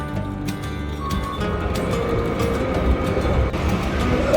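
A Sealdah local train rolls slowly over a junction where the line branches toward Budge Budge, giving a steady mid-loud rumble with scattered clanks and rail clicks.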